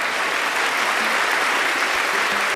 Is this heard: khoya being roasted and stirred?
no